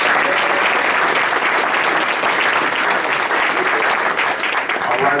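Loud, dense audience applause fills a Waukegan Park District volunteer and patron reception, welcoming a commissioner to the stage. The clapping is steady and close for the full five seconds, with no voices standing out.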